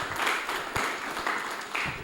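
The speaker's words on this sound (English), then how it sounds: "I want you all to give him a round of applause one more time." Audience applause for a poet at a poetry slam semi-final, a steady wash of clapping with a few sharper bursts, moderately loud and continuous across the short span.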